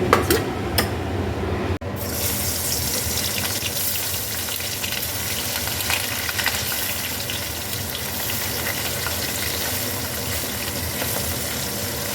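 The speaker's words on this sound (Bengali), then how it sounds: "তেলটা গরম হয়ে এসছে এবার আমি মাছগুলো ভেজে নেব" Puti fish sizzle steadily in hot mustard oil in a home kitchen pan: a dense, continuous crackling fry running throughout, close and fairly loud, with no talking.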